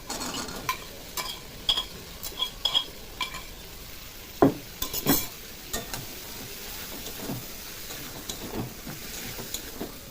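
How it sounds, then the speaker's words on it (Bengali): Potatoes sautéing with spices in oil in a pan, with a soft sizzle under repeated scraping and stirring strokes and occasional clinks of a utensil against the pan, no voices. "মশলাগুলোর সাথে আলুটা সুন্দর করে কষিয়ে নেবো একটু।"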